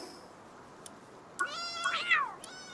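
A cat creature in the video game Palworld gives a few short, rising meows close up against a quiet background, with small clicks around them.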